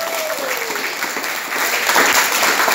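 Applause from a middle-school audience rises in a steady broadband clatter that grows louder toward the end, with a brief voice tone near the start.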